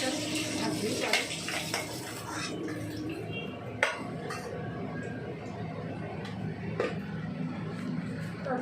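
Fish fries gently in a pan over low heat, giving a soft, steady crackle with occasional clinks of utensils, fairly faint, under a woman's speech.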